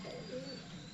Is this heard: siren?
no